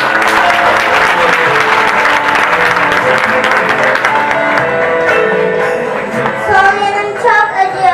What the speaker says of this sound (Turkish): Şimdi sahneye alkışlarınızla İlayda Akkaya arkadaşımızı davet ediyorum.